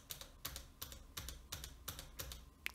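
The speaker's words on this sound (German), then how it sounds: "Ihr hört das Tastaturklimpern." Keys on a computer keyboard clatter in about seven quick rhythmic bursts, close and fairly quiet, picked up by a USB desktop microphone with no talking.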